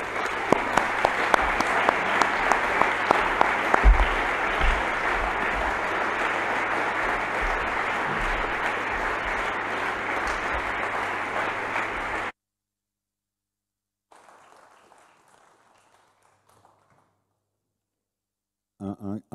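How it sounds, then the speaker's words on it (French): Loud sustained applause from an audience at an alumni general assembly, filling the room for about twelve seconds before cutting off, followed by quiet and a faint voice. "J'aimerais qu'on applaudisse Éric Lombard le plus fort possible."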